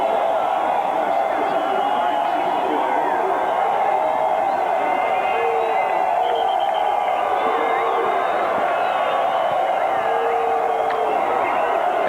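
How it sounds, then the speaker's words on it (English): A sellout crowd fills University Stadium at New Mexico for a 1993 BYU college football game, a constant broad roar of voices and cheering under a commentator's talk. "What a crowd. The first sellout in 33 years. And they are liking it."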